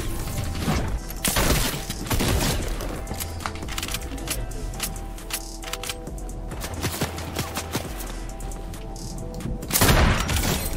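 Lever action rifle gunfire in Fortnite, with sharp, loud shots and booming impacts scattered among cluttered game effects, including a heavy blast near the start and another toward the end.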